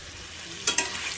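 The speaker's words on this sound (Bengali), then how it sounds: "আমি এখন কচুর লতিকটা দিয়ে দিয়েছি আর এখন একটু লাড়াচাড়া করছি" Taro stolons (kochur loti) being stir-fried in a pan, a soft steady sizzle broken by two quick scraping stirs near the end.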